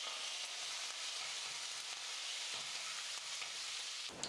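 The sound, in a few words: cashews and curry leaves frying in oil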